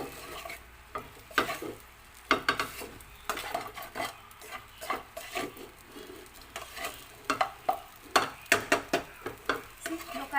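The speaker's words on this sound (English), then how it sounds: "We have to keep on mixing it so it doesn't go burn down from the bottom" A spoon stirs sabudana khichadi frying in a pan at home, with repeated scraping and clinking strokes against the metal over a steady soft sizzle. The rhythm is irregular and the sound is close to the mic.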